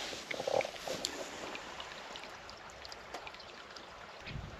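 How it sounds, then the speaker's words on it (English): A stream's steady running water rushes and trickles nearby, a continuous watery hiss with a few faint splashes and no talking, in Renfrewshire, Scotland. "You can hear running water here."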